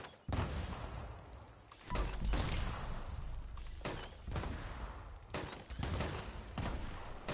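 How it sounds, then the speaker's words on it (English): Sustained bursts of MG42 machine-gun fire in Fallout 76, loud and close, coming in several long volleys separated by short pauses. "I am using the MG42"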